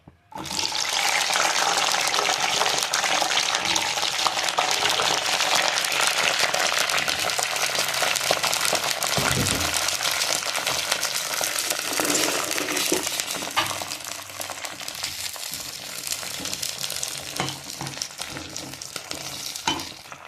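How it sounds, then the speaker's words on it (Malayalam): Green chillies fry in hot coconut oil for a chilli pickle, a loud, close, continuous hiss and sizzle that holds steady for a long stretch, then eases slightly toward the end, with no one talking. "നമ്മുടെ വെളിച്ചെണ്ണ ചൂടായിട്ടുണ്ട് അതിലേക്ക് ഞാൻ മുളക് ഇടട്ടെ"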